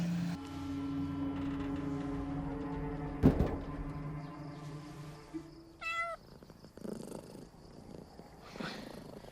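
A cat purrs steadily up close, then lets out a short meow partway through, with a dull thump and faint background noise.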